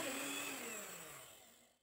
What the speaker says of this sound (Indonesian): Lalu, mixer dengan kecepatan rendah.